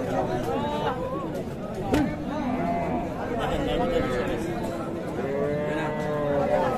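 Sahiwal heifers lowing at a busy livestock market, several moos rising over a steady hubbub of crowd chatter and nearby talking voices.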